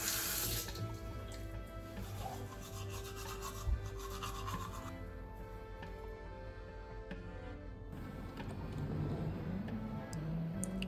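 A bathroom tap runs steadily into a sink during teeth brushing and face washing, a continuous close water rush with rubbing and scrubbing sounds layered over it.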